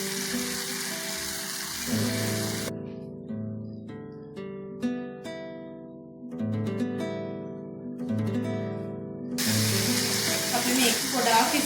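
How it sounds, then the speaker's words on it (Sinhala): Sliced bitter gourd frying in hot oil in a pan, a steady sizzle that fades out in the middle while music plays, then returns loud and close near the end. "කරවිල ටික එකතු කරගෙන මේක ටික වෙලාවක් සුත්තක් තෙලේ තොන්නෙන්න දෙමු"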